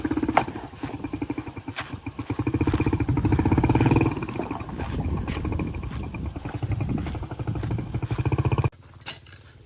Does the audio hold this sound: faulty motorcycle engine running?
yes